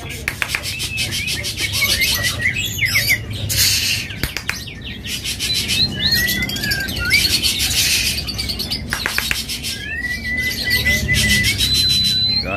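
Songbird in a shop keeps up repeated chirps and melodic whistled phrases, fairly close and bright, with a low background hum and brief voices underneath at times.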